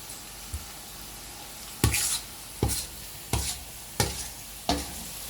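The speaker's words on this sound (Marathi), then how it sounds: "एका भांड्यामध्ये लसूण टाकायचा मग त्याच्यावर थोडं गरम तेल टाकायचं" Hot oil sizzles and spits over garlic, with five sharp bursts of crackle roughly evenly spaced over a steady low background hiss.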